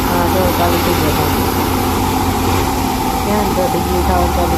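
Combine harvester engine starting in a wheat field, producing a loud, steady mechanical drone that runs continuously beneath people talking nearby.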